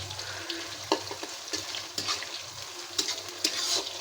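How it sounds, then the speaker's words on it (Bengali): Soybean chunks fry in a pan with a soft, steady sizzle, broken by intermittent scraping and stirring clatters at a moderate distance. "আমি এখন সয়াবিনটা ভাজে নিব।"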